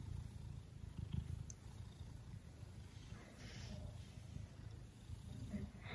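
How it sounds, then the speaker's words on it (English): A Maine Coon cat purrs close up, a low continuous rumbling drone that pulses steadily and stays fairly quiet throughout. "You can hear him purring."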